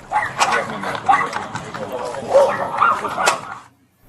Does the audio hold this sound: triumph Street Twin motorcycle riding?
no